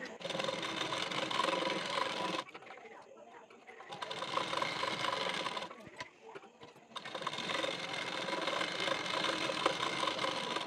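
A sewing machine runs in three bursts of fast mechanical whirring while stitching a size 40 blouse, with quieter gaps of rubbing cloth and handling between them, close up.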